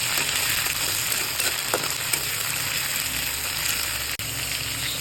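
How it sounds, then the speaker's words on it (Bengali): Onion paste added to chopped onions frying in oil for a fish curry, a steady close sizzle with a few scraping stirs and a brief clatter near the end, no talk. "পেঁয়াজ কুচিটা লাল হয়ে আসলে দিয়ে দেবো 2 চামচ পেঁয়াজ বাটা।"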